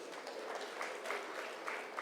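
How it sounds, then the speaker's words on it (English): Audience applause at a closing ceremony, a steady wash of many hands clapping from a crowd, sustained and moderately loud with no voices over it. "Can we have a louder round of applause, please?"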